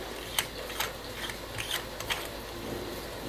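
Threaded case back being screwed onto an Invicta Subaqua NOMA IV watch after a battery change, giving a series of small, close metallic clicks and ratcheting ticks at a steady, slightly uneven rhythm over a quiet background.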